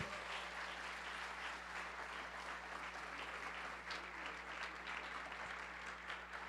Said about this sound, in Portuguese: Aplauda ao Senhor Jesus conosco